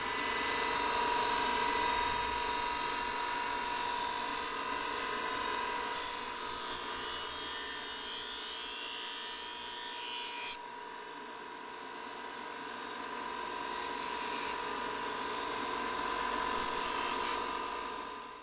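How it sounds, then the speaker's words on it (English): A bench grinder finishing the edges of a Manley M-Line popcorn machine front lens: a steady, bright whirring grind with continuous rasping contact, shifting in pitch partway through, close and without speech. "now we're ready to go to the bench grinder to do the edges"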